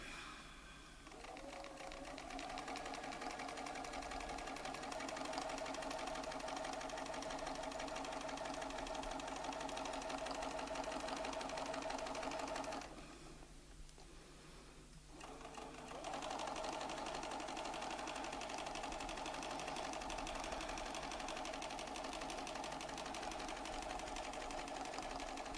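A sewing machine runs steadily while stitching a petal template onto fabric, its fast even whir pausing briefly midway and then resuming, close and fairly quiet.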